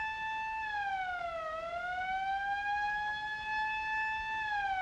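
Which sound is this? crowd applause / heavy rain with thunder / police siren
police siren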